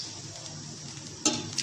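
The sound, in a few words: water added to sizzling masala in pan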